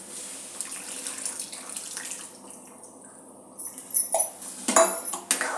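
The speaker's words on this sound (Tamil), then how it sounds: "குழம்பு கொதிக்க ஆரம்பிச்சிருச்சு. இந்த புளியை ஊற்றிடலாம்." Tamarind water being poured into boiling sambar in a home kitchen: a steady liquid pour and splashing, with clinks of a vessel or utensil growing louder toward the end, close and alone.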